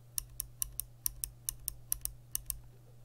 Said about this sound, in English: This bronze one must be the click bar one.